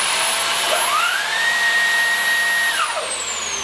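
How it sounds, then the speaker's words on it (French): Hoover Air Lite cordless bagless stick vacuum running with its brush engaged, a steady loud motor whine whose pitch rises as the brush kicks in, then drops back near the end, with no talking. "la brosse ne s'active que lorsque l'aspirateur est penché"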